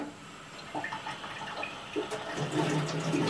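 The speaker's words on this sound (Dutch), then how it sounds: "gaat nu de kraan openen. Er zou dus warm water uit moeten komen." A tap being opened for hot water: quiet room sounds and small clinks, then water starts flowing and rushes steadily and fairly loudly for the final second.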